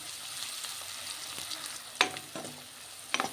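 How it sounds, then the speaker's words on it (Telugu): Sliced onions and green chillies fry in a pan, a steady close sizzle broken by a few sharp stirring scrapes of a spoon, heard alone without talk. "ఉల్లిపాయ ముక్కలు బాగా ఎర్రగా వచ్చేలాగా మనం ఇలా ఫ్రై చేసుకుందాం."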